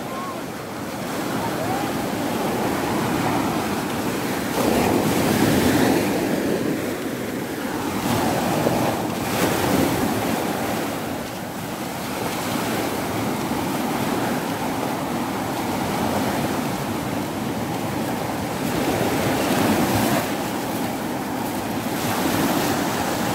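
Ocean surf washes steadily onto the beach at Praia da Galheta, a continuous broadband roar with gentle swells of loudness, mixed with wind buffeting the microphone; faint voices occasionally come through underneath.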